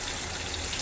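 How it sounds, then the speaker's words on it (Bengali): Water poured into a pan of cooking chicken, a brief steady splashing gush that lasts under a second with no talk. "এবারে একটুখানি হালকা অল্প করে জল দেবো"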